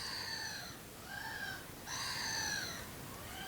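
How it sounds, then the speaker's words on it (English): Birds in the background let out odd, drawn-out raspy calls in repeated phrases with short gaps, moderately loud over a steady outdoor hiss, with no talking. "There's some birds making these very weird noises."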